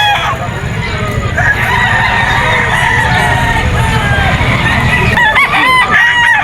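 A stag rooster at a pet market crows loudly and close, with one long crow followed by further crowing and clucks, all over the steady chatter of a busy market crowd.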